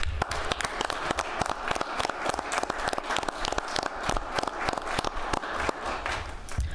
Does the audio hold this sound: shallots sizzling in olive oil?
no